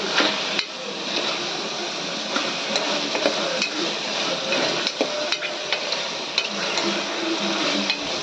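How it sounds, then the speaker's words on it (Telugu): Ingredients for mushroom biryani fry steadily in a pan, a continuous close sizzle broken by scattered clinks and scrapes of a utensil against the metal, with no talk. "బాగా వేగుతున్నాయి"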